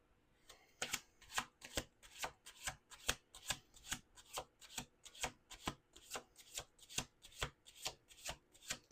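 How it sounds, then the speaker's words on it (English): Rapid rhythmic riffling of tarot cards, about twenty crisp bursts at a steady pace, close and clear with no voices. "This is the last shuffle."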